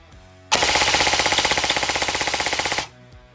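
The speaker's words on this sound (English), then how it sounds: "let's see what our rate of fire is on fully auto" A Zion Arms airsoft gun fires on fully automatic at around 15 to 16 rounds per second, giving one loud, continuous rattling burst of just over two seconds that stops abruptly and is heard alone.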